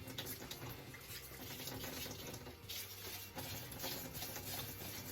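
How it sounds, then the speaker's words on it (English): Water pours steadily into a mixing container for jewelry casting investment, a continuous splashing trickle that sounds close and fairly quiet. "Add some water."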